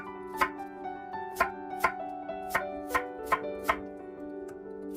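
A knife slices peeled yam into 0.5 cm rounds, with about a dozen crisp, evenly paced thuds on a cutting board over soft background music.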